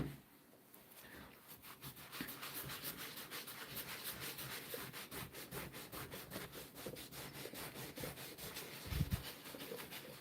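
Old 1840s Kentucky rifle wooden stock rubbed with a rag and lacquer thinner, giving a steady, rhythmic scrubbing close by with no talk.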